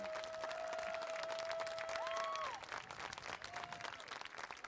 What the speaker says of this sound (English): Let's give another round of applause to our young guests today.